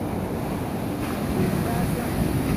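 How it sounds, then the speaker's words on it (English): Ocean surf rolling in at Virginia Beach, a steady broadband wash of breaking waves with wind buffeting the microphone, loud and continuous with no clear pauses between waves. "Look at that wave, guys."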